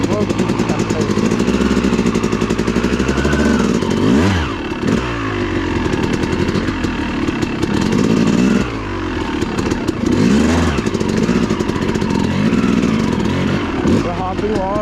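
An enduro dirt bike engine runs loud and close throughout, rough and clattery, with the revs dipping briefly a couple of times while the clutch is held in.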